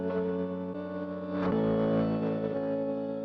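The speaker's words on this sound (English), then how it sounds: "Distorts when you get past a certain volume level, some more distortion." A sustained, buzzing synth tone crunched by heavy clipping distortion, steady and dense, swelling slightly louder halfway through.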